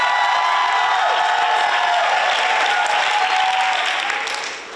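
A large audience at a NJPAC ArtsXchange event bursts into loud sustained applause with cheers and whoops, a dense roar that eases slightly at the end.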